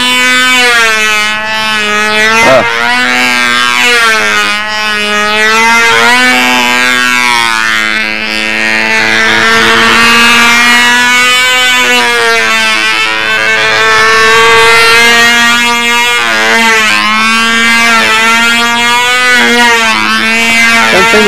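A new model airplane's motor whines loudly in windy flight, its pitch climbing and falling as it revs up hard, a steady near drone throughout without speech.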